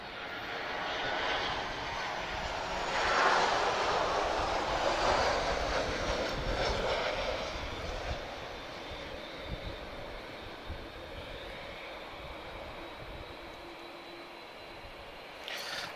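A Ryanair airliner arriving from Paris on approach to Lisbon Airport, a broad distant jet roar that swells and then slowly recedes, heard outdoors amid a wash of wind and background rumble.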